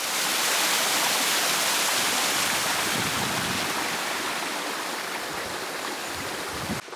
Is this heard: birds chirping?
no